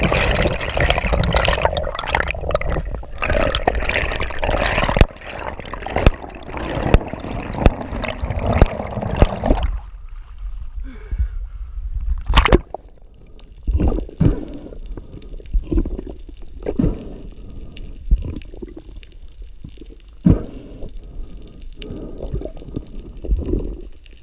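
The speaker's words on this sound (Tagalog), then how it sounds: "Kasi medyo lumalakas na ang alon." Sea waves slap and splash around a small fishing boat at sea as the swell picks up, a steady rush of water with louder surges in the first half and calmer lapping later.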